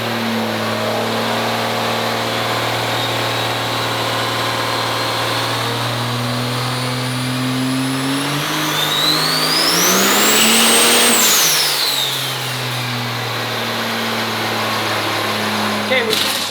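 A triple-turbo Quad Cab truck engine idles on a dyno, then revs up to a loud roar with a rising turbo whistle before falling back to idle, close by and continuous.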